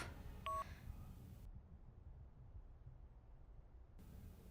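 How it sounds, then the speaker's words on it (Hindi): A few quick electronic keypad tones sound near the start, followed by steady low hiss and faint background noise. "ये राहुल का फोन क्यों नहीं लग रहा?"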